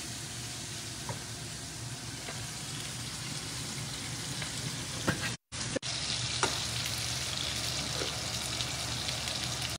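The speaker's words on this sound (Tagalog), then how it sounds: "Magpipirito po ako ng chicken dito sa aking amazing na lutuan na walang mantika" Chicken frying in a pan with no oil gives a steady close sizzle with occasional crackles and light clicks, and a brief cut of silence partway through.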